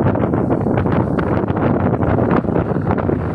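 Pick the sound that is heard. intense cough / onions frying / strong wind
strong wind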